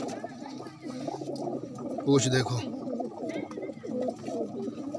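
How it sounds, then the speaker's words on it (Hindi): A male pigeon coos near the recording point in a short low burst, heard under a man's ongoing speech. "ये नर ची कबूतर है"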